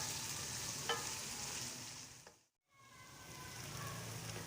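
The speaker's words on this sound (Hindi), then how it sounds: "देखिए व्यूवर्स फ्राई हो चुकी हैं अच्छे से सब्जियां और चिकन भी।" Vegetables and chicken sizzle steadily in a pan for Mexican chicken rice, a dense continuous frying hiss with faint stirring clicks, broken by a brief silent gap midway before the sizzle resumes.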